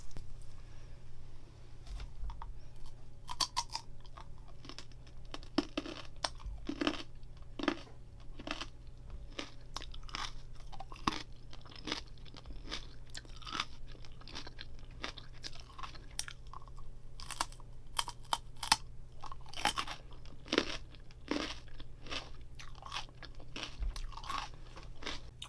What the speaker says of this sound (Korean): 먹기 좋은 크기로 한번 먹어볼까요?